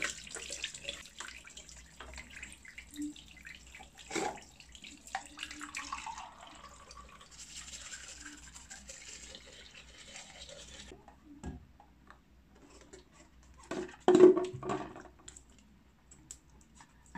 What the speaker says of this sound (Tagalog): Siyempre, mag-toothbrush na rin tayo.